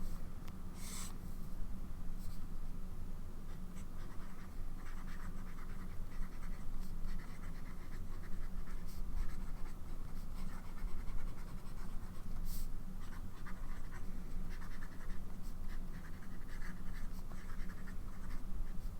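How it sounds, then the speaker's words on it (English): A fountain pen with a medium nib, inked with Callifolio Andrinople, scratches steadily across paper in a continuous close-up handwriting sound, with faint soft strokes and small pauses throughout. "I love how my handwriting looks with this pen."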